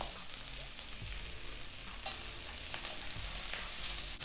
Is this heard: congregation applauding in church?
no